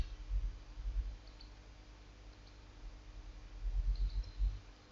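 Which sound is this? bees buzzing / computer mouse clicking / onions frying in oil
computer mouse clicking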